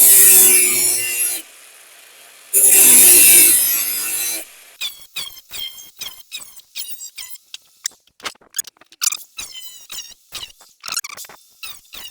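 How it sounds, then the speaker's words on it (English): An angle grinder fitted with a thin 1mm cutting disc bites into rusty car body metal near a rear sill in two loud, harsh bursts, followed by a run of short squeaky scraping sounds. "So I've got myself some thin 1mm cutting discs."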